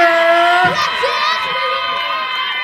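A television music show audience cheers and shouts steadily, a loud, sustained roar with high whoops rising above it.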